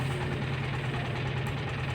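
A trawler boat's engine runs steadily at idle, a low, continuous knocking drone with a vibrating throb that holds at an even level throughout, close and without talk.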